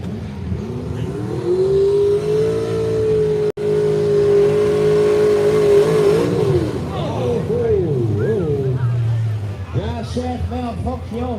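A pulling truck with a 440 cubic inch small block Chevrolet engine revs loud and sustained at a truck and tractor pull, holding a steady roaring pitch, then winding down and sputtering, with an announcer's voice over it.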